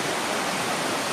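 The Asahan River rushes swiftly at the Bedeng nature bathing spot, a loud, continuous broadband roar of fast-flowing water with no gaps.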